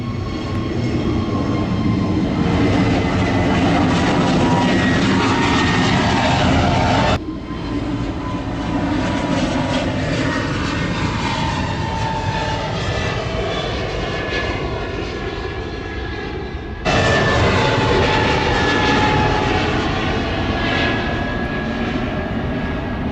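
A jet aircraft roars steadily on its takeoff roll from runway 27 at Gibraltar Airport, a loud, continuous engine rumble and whine that shifts in intensity twice as the plane accelerates.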